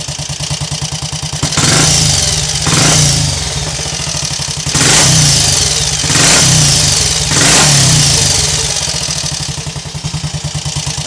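A Triumph Cub scrambler replica motorcycle starts cold and its engine is revved hard several times, each rev swelling and falling back to an uneven idle, close and loud with no talking.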